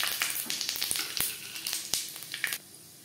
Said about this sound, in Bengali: 4 চামচ রিফাইন্ড অয়েল গরম করে নিয়েছি। ফোড়নে দিয়ে দেবো একটা শুকনো লঙ্কা